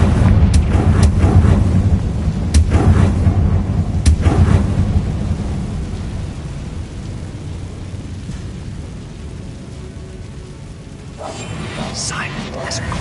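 A Confringo blasting curse in Hogwarts Legacy explodes with a deep, booming rumble and sharp cracks, then rolls away into a long, fading roar like distant thunder, followed by brief sparkling bursts near the end.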